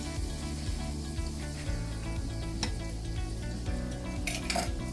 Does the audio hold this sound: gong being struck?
no